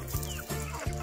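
Native chickens cluck in a backyard, three short throaty clucks in quick succession, fairly faint, with no talk.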